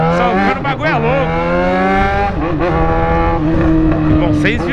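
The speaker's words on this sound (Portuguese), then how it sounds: "Acelerando aqui, mó barulheira. Só o cano, né, tio?" Yamaha XJ6 motorcycle with a loud aftermarket exhaust revving hard, its engine note rising and falling through several throttle blips, close and sustained, with someone talking over it.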